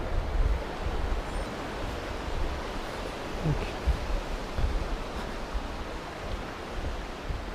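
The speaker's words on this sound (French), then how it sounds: "Maintenant on traverse la rivière." Steady broadband rushing water from a river being crossed on foot in Parc de la Gaspésie near Mont Albert, Canada, close and continuous with a low rumble, nothing else standing out.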